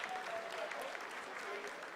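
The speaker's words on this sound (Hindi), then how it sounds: "Lot of applause indicates that till now the performance has been nominal." Applause in mission control during the Chandrayaan-3 lunar landing sounds as a brief, faint spatter of clapping from a room of people, mixed with low crowd murmur.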